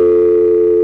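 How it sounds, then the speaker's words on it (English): Recall dial tone on a 1A ESS Centrex telephone line, a loud, steady, continuous tone with no break, heard alone. "you would get a recall dial tone"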